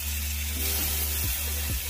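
Crushed garlic dropped into hot oil with nigella seeds while cooking rohu fish in mustard sauce gives a steady, close sizzle and crackle over a constant low hum, with no voices.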